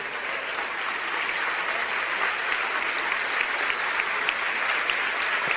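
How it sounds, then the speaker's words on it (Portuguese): Sustained applause from a church congregation during an Easter sermon, steady and fairly even for several seconds, with no speech over it. "Pode vir, vamos aplaudir o Senhor."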